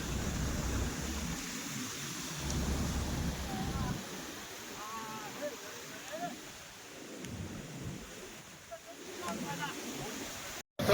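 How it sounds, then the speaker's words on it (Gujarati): Floodwater rushes steadily into an overflowing village lake at Ingorala after heavy rain, a broad, continuous roar that eases midway and is joined by faint voices. "હજી પાણીનો પ્રવાહ ચાલુ છે."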